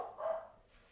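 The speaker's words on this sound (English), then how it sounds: "I apologize for all the dogs barking in the background if you can hear them." Dogs bark in the background, one short muffled woof, faint and distant, followed by quiet.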